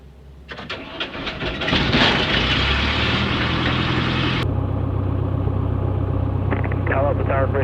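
A Cessna Skycatcher's propeller engine cranks with a few sharp ticks, catches and roars up to a steady loud run, with a rhythmic prop drone continuing close by and a brief radio voice near the end.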